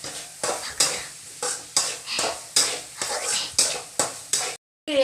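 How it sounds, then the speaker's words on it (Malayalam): Fried chicken pieces stirred into ketchup gravy in a pan, with a steady run of rhythmic scraping strokes over a soft sizzle, close and moderately loud, ending in a brief pause. "ഈ ചിക്കൻ പീസിൻ്റെ കഷ്ണങ്ങൾ ഇതിലേക്കിട്ട് കൊടുത്തിട്ട് വഴച്ചെടുക്കാം."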